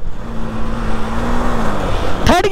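A KTM Duke 200 and a Bajaj Pulsar 200 NS drag race, engines revving in a loud, close, sustained roar that holds steady before shifting in pitch near the end, with a brief voice at the close.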